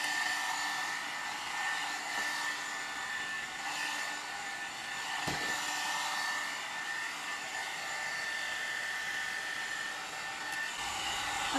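A hot air brush blows steadily while styling hair, an even whooshing hum at moderate level that runs throughout with a brief low bump midway and no talking.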